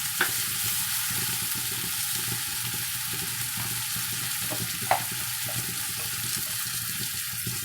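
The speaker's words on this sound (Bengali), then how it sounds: "সব মশলা ভালো করে আমি মিশিয়ে নেব।" Spices being stirred into chicken in a cooking pan, a steady close sizzle with scraping stirring strokes and a couple of sharp utensil knocks against the pan.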